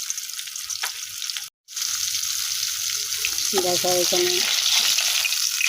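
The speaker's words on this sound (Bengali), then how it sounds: "এখন মাছটা দিয়ে দিলাম। কড়াই গরম হয়ে গেলো, তেল গরম হয়ে গেলো," Rohu fish frying in hot oil in a heated kadai, a steady close sizzle and crackle running the whole time, briefly cut off once, with a voice speaking over it.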